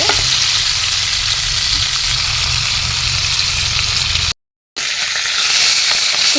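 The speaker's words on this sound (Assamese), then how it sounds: "মাছখিনি প্ৰথমতে অলপ ফ্ৰাই হ'বলৈ দিম" Fish sizzles steadily in hot oil in a pan, a continuous loud crackling frying sound with a brief cut of silence before the sizzle resumes.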